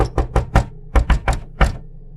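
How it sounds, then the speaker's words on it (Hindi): Knocking on a door as a horror-story sound effect: eight loud, close, hollow raps in uneven clusters, with short pauses between the groups and no voices. "मैंने दरवाजा खटखटाया।"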